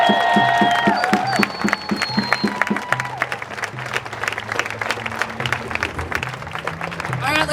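Crowd applause and cheering at an anti-racist rally, a dense sustained clapping that carries on steadily throughout, with a few shouts and faint voices mixed in.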